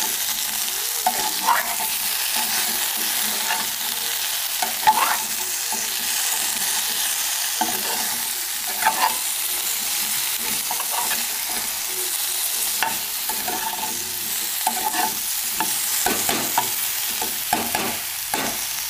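Okra frying with salt in a pan, stirred with repeated scraping spoon strokes over a constant close sizzle, steady throughout.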